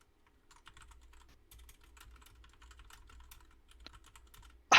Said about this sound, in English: He's just typing it in there now.